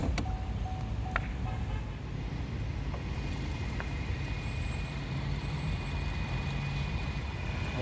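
Chevrolet Camaro SS VVT engine idling with a low, steady rumble, heard fairly faintly with a few brief clicks and knocks over it.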